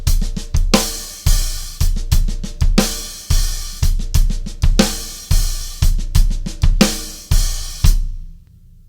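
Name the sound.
drum kit half-time shuffle groove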